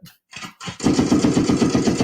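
A second gunshot sound effect played as a salute opens with a few separate shots, then breaks into a steady, loud machine-gun-like rattle of rapid evenly spaced blasts, with no one speaking over it.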